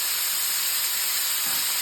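Prawns frying in a pan for biryani give a constant, dense hiss of sizzling oil, loud and close, with no talk.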